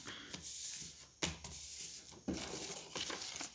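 Paper being pulled and folded into album corner pieces crinkles and rustles up close, with a few sharper tearing-like pulls and folds, fairly quiet with no talking.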